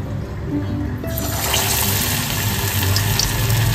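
Chicken wings go into hot oil over a low gas flame; a moderate hiss jumps up sharply about a second in, then settles into a loud, steady, rushing sizzle.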